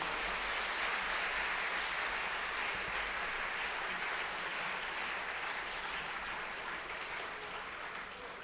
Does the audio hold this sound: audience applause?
yes